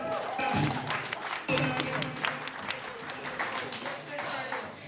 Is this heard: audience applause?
yes